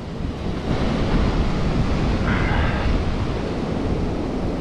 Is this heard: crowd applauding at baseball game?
no